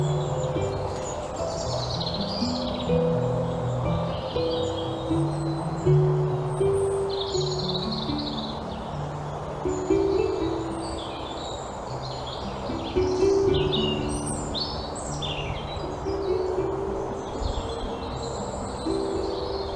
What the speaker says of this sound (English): I feel the birdsong is truly the music of spring